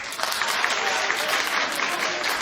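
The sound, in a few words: studio audience clapping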